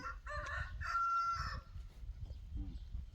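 A rooster crows once, fairly close and clear, on a rural Thai farm homestead, the call rising and holding before trailing off, followed by faint clucking and low background noise.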